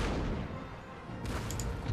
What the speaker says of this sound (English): Let's get one cannon to switch to canister shot and get a few shots away on this flank.